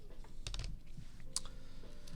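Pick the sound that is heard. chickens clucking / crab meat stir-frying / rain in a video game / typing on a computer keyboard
typing on a computer keyboard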